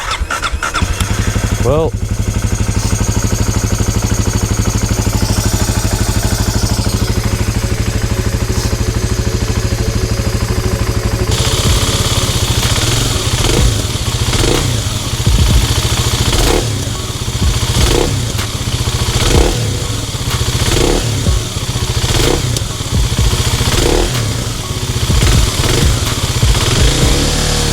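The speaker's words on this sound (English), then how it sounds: "But moment of truth, does it run?" A Kawasaki KLX300 motorcycle cranks and catches after throttle body work, settling into a loud, close, steady idle with rhythmic mechanical clatter; someone speaks briefly at the start.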